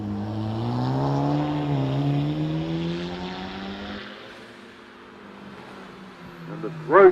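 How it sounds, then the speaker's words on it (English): A throaty Porsche 911 engine climbs through a British hill climb course, its note rising and swelling nearby, then fading into the distance, with a brief revving burst at the end. "And the throaty 911 of Peter Herbert out of Museum"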